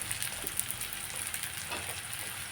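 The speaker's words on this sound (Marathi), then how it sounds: "म्हणून आधी कांदा परतून घ्यायचा" White onion sautéing in a pan gives a soft, steady sizzling hiss that runs unbroken and fairly faint throughout.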